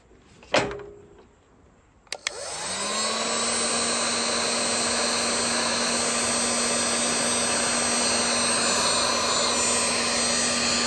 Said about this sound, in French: Allez, je fais ma soudure et je rebranche les essuie-glaces.